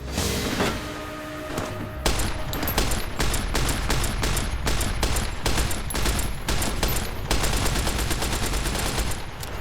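Rapid gunfire from the game Fallout: New Vegas, a steady run of loud, close shots fired in quick succession for nearly the whole stretch, with a few irregular bursts near the start.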